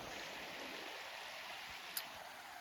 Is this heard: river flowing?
yes